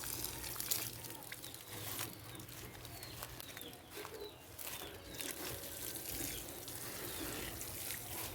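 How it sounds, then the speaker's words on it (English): Garden plants being watered outdoors, a steady soft wash of water running under constant background noise, with birds chirping and cooing in the distance throughout. "So let's water the plants."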